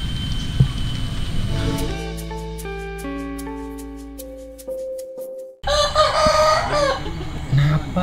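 Chickens cluck and a rooster crows close by, the calls rising over a sustained musical tone before a louder burst of clucking fills the end.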